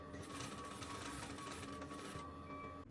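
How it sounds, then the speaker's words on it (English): A domestic sewing machine runs steadily as it stitches dress fabric, making a close, continuous whirring mechanical buzz with a fast rapid rhythm that stops abruptly at the end. "Patterns are now cut now, so I'm about to start sewing."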